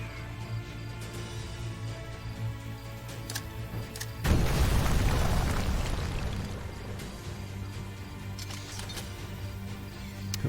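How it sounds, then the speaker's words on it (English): A grenade blast in the strategy game Age of Wonders: Planetfall: a single heavy boom bursts out partway through over a quiet game backdrop, then rumbles and fades slowly over several seconds. "toss the grenade"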